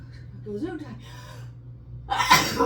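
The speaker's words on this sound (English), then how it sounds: "I'm gonna sneeze again." A sharp single sneeze, triggered by black pepper, bursts out near the end, preceded by a few quick, shaky inhaled gasps.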